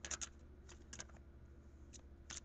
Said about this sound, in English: Now, I am now going to shuffle for a message from your spirit guide